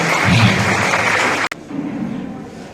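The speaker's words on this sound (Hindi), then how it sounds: "ताली बजाकर" An audience at a Catholic parish celebration in Bettiah for Elders' Day and Christmas gives dense, loud applause that cuts off sharply halfway through, leaving quieter room sound afterward.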